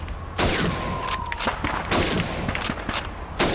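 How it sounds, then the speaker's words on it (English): Rifle shots fired at bottles and plates on a video game shooting range: a series of sharp, loud gunshot cracks at irregular intervals, each with a short noisy tail, and no talking. "Shoot those bottles and plates."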